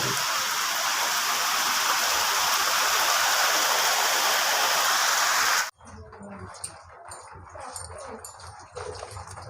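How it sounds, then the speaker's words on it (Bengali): Loud, dense downpour hisses steadily for several seconds, then cuts off abruptly, followed by quieter indoor sounds and muffled voices. "আমাদের এখানে আজও প্রচুর বৃষ্টি হচ্ছে"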